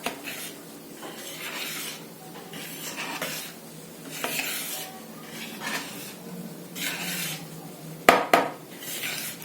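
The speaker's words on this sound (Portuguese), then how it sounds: "Eu vou mexendo com o fouet, de baixo pra cima, pra não perder volume" A whisk works through cake batter with flour in a bowl, rhythmic scraping strokes in repeated swells, with a sharp utensil knock near the end; no talking.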